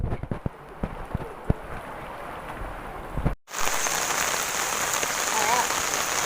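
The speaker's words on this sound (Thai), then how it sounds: "ตอนนี้ฝนก็ตกอยู่นะคะ" Rain falls outdoors in a steady hiss, with a few louder drips and taps early on before a brief cut, then continuous even patter.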